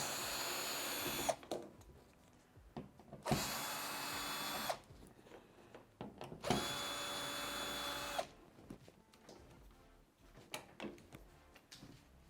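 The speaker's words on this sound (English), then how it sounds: "So we're going to go right ahead and take these screws off." A power drill unscrews screws from the back cover of a Fisher & Paykel condenser tumble dryer, whirring in three short bursts separated by quiet clicks and handling noise, close and fairly faint.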